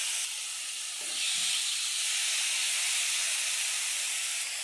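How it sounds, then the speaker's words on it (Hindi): Chicken tikka pieces hiss and sizzle steadily on a hot oiled grill, a broad continuous sputter that swells slightly after the first second and holds at a moderate, close level with no talking. "ग्रिल अच्छे से गर्म हो गई है। अब चिकन टिक्का को हम इसके ऊपर रखते जाएंगे।"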